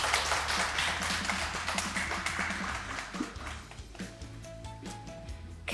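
A game show studio audience claps in a dense burst that gradually thins and softens, with a few faint tones near the end.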